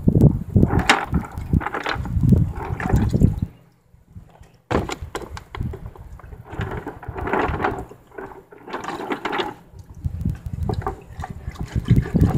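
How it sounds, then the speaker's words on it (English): Rocks pulled from an oxalic acid rust-removal bath are rinsed off under water, with bursts of splashing and running water broken by a short quiet pause midway. "now I'm going to pull everything out, get it rinsed off"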